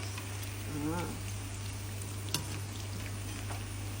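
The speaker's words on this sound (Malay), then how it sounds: "Tempe goreng untuk ayam penyet kita" Steady sizzle of tempeh frying in hot oil, constant and close, with a low hum underneath and one brief clink.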